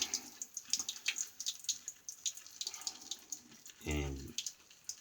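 Tap water runs briefly into a sink during a wet shave with a Wolfman WR3 razor, a short faint splash of flow amid soft handling noises, with a louder low gush near the end.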